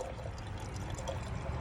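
Gasoline drains from a Tecumseh snowblower carburetor into a jar, a steady close-up pouring trickle that keeps going without pause, with no voices.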